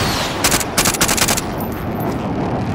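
Automatic gunfire in Call of Duty: Modern Warfare, a loud, rapid burst of several shots in quick succession near the start, then the shooting stops and low battlefield ambience carries on with no talk.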